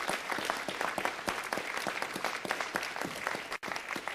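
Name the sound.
audience applause for the Shriners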